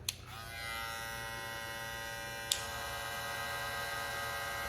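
Wahl Magic Clip hair clippers run with a steady, close electric buzz and hum after a sharp switch-on click, with a second brief click midway and no talking.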